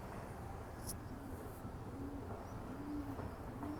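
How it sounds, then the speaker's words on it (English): Pigeons coo in soft, repeated low hoots against a steady outdoor background hiss on a morning street, with a brief higher chirp near the start. "I can hear baby pigeons over there"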